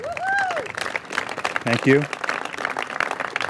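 An audience applauds at a San Diego mayor's budget signing: a broad wash of clapping runs through the whole stretch, with a speaker's voice briefly heard over it.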